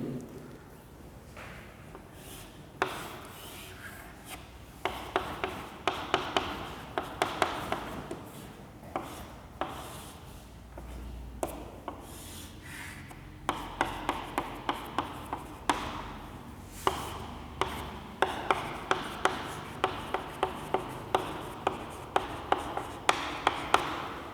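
Marker or chalk drawing a block diagram on a classroom board: a long stretch of scratchy strokes and rubbing punctuated by frequent sharp taps and clicks, close and fairly quiet, with no talk.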